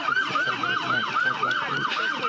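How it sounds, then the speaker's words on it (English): A wailing police siren with a fast, repeating up-and-down yelp, loud and close, cycling steadily over road noise. "Turn the sirens on."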